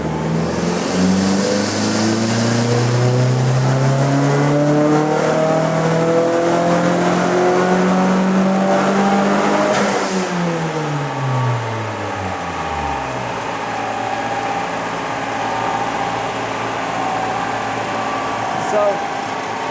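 A car engine revs hard on a dyno, climbing steadily in pitch for about ten seconds, then drops back and winds down, loud and close, with a voice briefly heard.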